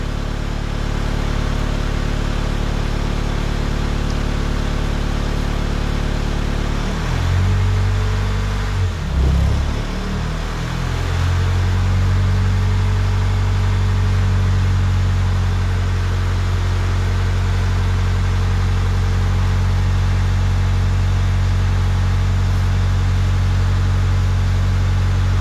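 A Mercedes W211 with a 722.6 automatic transmission idles with shaking, giving a loud, steady low drone that dips briefly partway through and then settles back into a constant rumble.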